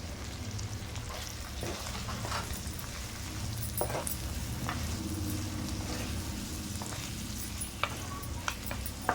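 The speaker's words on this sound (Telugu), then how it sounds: "టమాటా కూడా బేట వేసి కలిపేసుకొని" Mutton keema frying in a pan as tomato and chili powder get stirred in, a steady soft sizzle with occasional scraping clicks of the spoon, alone and moderately quiet.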